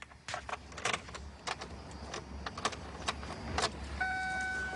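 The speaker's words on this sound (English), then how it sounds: "when you put the key in and turn it" A car key clicks and jingles as it is turned in the ignition of a car, with brief clicks and a rising electrical whine near the end, close and fairly quiet.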